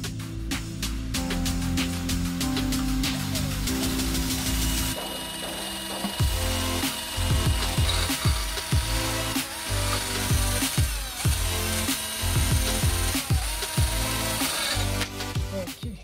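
Rust is cleaned off the rear brake parts of a Range Rover Evoque with a power tool, a loud continuous whirring grind close by, its pitch wavering and the tool catching against the metal throughout.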